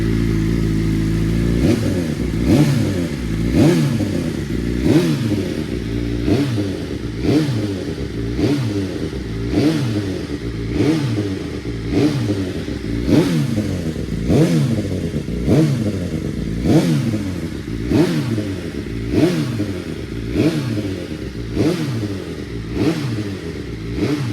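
BMW M1000RR race motorcycle engine running close up, with repeated sharp revs rising and falling in a steady rhythm over a continuous rumbling idle, loud throughout with no talking.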